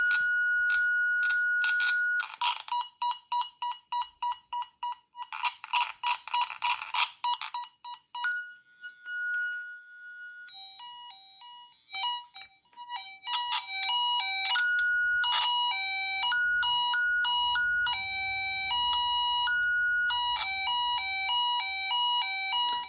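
Klein Tools VDV500-820 tone generator from a tone and probe kit emits loud electronic beeping tones, first rapid pulsed bursts, then a steady tone, then alternating warbling pitches switching back and forth for over twenty seconds, heard alone.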